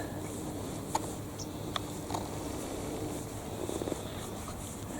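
Soft, close cat purring as a continuous low rumble, with a few faint clicks and rustles over it.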